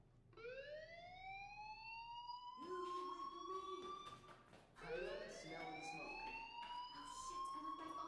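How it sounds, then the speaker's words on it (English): A fire alarm sounds in the video game Life is Strange, repeated rising electronic wails layered over one another and ringing out continuously, with faint background talk. "Hey, do you hear that fire alarm?"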